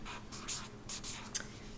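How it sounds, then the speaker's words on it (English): A pen scratches across a piece of paper in short, uneven strokes with small pauses between them, soft and close, with no talking. "I'm going to write them on a piece of paper"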